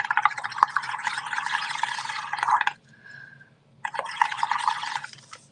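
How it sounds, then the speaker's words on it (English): Bubbles are blown through a straw into a mixture of dish soap, instant coffee and warm water, a close bubbling gurgle in two bursts separated by a short pause with a faint tone. "Okay, blow bubbles."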